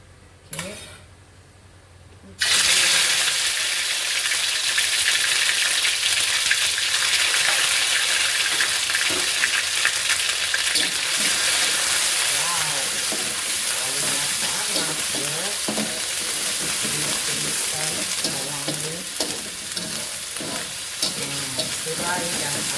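Lemongrass and ginger seasoning sizzles steadily in hot oil for sweet-and-sour pork ribs, with stirring and occasional clinks of a utensil against the pan, close and loud after a quiet opening couple of seconds.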